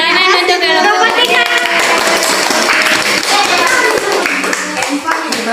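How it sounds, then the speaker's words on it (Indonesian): Children in a primary school classroom clap for a group after a science lesson on the properties of light, loud close clapping with overlapping sharp hits and children's voices chattering over it. "Tepuk tangan untuk kelompok."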